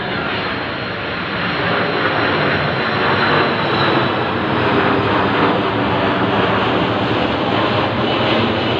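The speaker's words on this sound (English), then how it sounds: "I think that's the last plane that I should film for the day" An airplane flies overhead with a loud, continuous engine roar that holds steady throughout, with no voices.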